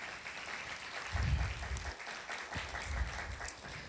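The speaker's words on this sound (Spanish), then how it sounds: "Le damos un aplauso" Audience applause at a university gender-studies lecture event welcomes a speaker: a steady wash of many hands clapping for about four seconds, with a few dull low thumps mixed in.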